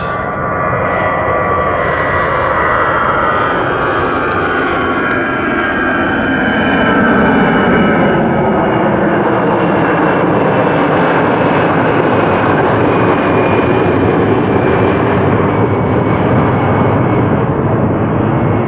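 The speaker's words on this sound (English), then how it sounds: "you might hear an airplane off in the distance" A steady, loud roar of a propeller airplane droning overhead, holding constant for the whole stretch with no voices.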